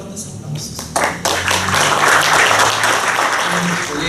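An audience at a legal academic conference applauds to welcome a speaker. Dense, steady clapping builds within the first second and fills the rest, loud and close, with some voices mixed in.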